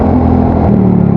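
A motorcycle with an aftermarket exhaust, called Si Pujo, idles loud and close in a deep steady rumble, its pitch stepping up briefly as the throttle is blipped.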